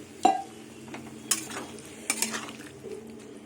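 Potatoes and peas being stirred and sautéed with a little water in a pan, a few scraping strokes of a spoon against the metal over a soft sizzle, fairly quiet and without talk.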